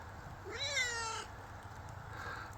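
A stray cat gives a single clear meow of about a second in a quiet yard, with faint background hum and no talking.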